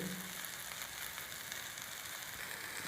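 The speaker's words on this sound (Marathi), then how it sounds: "मिरची आता आपण पाच मिनटं छान परतून घ्यायची" Green chilies sautéing in oil in a pan, a continuous soft sizzle and crackle heard close and alone, steady throughout.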